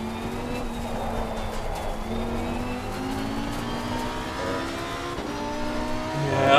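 Race car in Assetto Corsa Competizione at Laguna Seca or Misano, a steady engine drone with rising whining gear tones as another car closes in and goes past, plus brief tire noise near the end.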